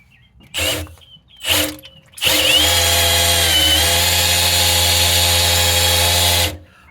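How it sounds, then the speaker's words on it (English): A power drill mounted on an old engine distributor spins to prime an oil pump, two short bursts of whirring followed by a long, loud, steady run of about four seconds, close up and with no talking. "I got a old distributor there um, with the drill on top of it."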